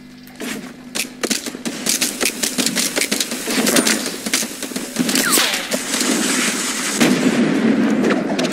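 Rapid gunfire cracks in a Fortnite match, a dense run of sharp shots and bursts over several seconds with a sniper shot among them, loud and busy with no talk.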